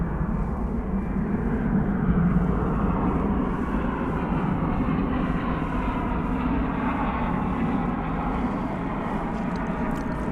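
An American Airlines jet departs DFW Airport with a loud, steady broadband engine roar that holds throughout, sounding fairly close with no voices over it.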